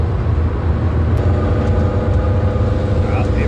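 Lancia Delta Integrale engine running, a steady low rumble with a continuous road-car drone throughout, fairly loud and close, with no clear revving peaks.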